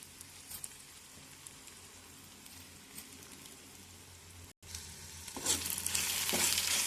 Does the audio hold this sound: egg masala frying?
yes